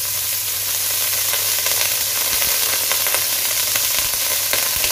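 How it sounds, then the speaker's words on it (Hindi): Butter sizzles steadily in a hot pan while Alfredo chicken pasta is being made, a loud, continuous frying hiss with small crackles and no voices. "पैन के अंदर डालेंगे कि बटर"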